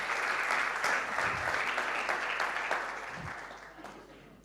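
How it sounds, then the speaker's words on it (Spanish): A church congregation claps together for the Lord in sustained, even applause that slowly fades toward the end, with voices faintly mixed in. "Dele palmas al Señor."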